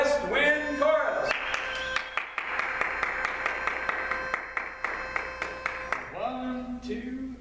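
Audience applauding the West Wind Chorus, a dense burst of clapping that holds for several seconds and then fades, with voices before and after.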